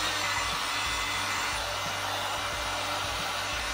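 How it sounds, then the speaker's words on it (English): A heat gun blows hard and steady at close range, warming the cold adhesive on a Spoon side mirror for a 10th-generation Honda Civic, a continuous whooshing fan roar with no pauses and no voices. "this is why I'm gonna need the heat gun, because this is way too cold for this to stick onto anything properly"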